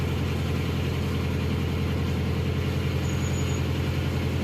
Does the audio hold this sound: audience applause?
no